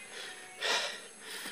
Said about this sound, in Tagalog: Sobrang hingal ko.